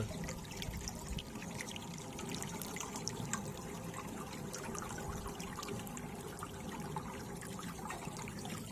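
Water flows and trickles steadily in a natural stream full of small fish, a continuous soft splashing babble heard fairly faint and alone without talking.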